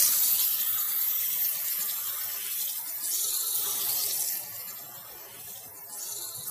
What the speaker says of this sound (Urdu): یوں پھر پانی لیں گے اور پھر پانی کو بازو کے اس حصے پہ ڈالنا ہے